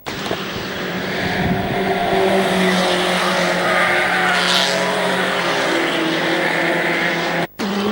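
Racing cars at Mallory Park circuit in 1974 roar past down the back straight, a loud sustained engine drone with shifting pitch, including overtaking of slower back markers, and no talk over it.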